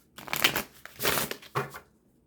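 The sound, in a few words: shuffling a tarot card deck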